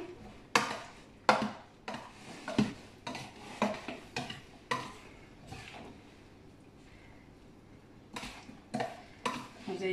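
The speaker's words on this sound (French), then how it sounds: "Je vais déjà bien mélanger mes pâtes avec mes poivrons" Cooked pasta being mixed with peppers in a bowl: a steady series of spoon knocks and scraping stirs against the dish, fairly close and distinct, with a pause before the clinks resume.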